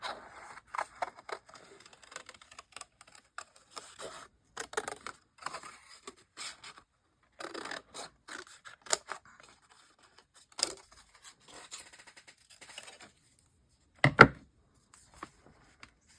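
Paper is cut into half circles with scissors in short irregular snips and bursts, close and crisp, with quiet gaps between cuts.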